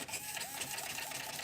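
Steering servo on an RC crawler whining as it moves, a thin buzzing motor sound about a second and a half long, faint and close.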